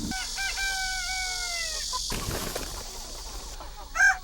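Chickens on a poultry farm in Sejong, South Korea: a rooster crows loudly and close by, then hens cluck and murmur in a noisy barn with a sharp squawk at the end.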